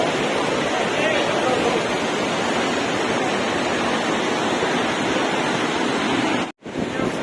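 A waterfall on a hillside near a mountain temple roars as a steady, loud broadband rush, briefly cut out near the end.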